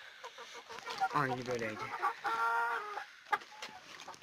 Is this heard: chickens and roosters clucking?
yes